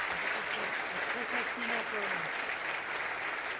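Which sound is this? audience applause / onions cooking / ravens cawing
audience applause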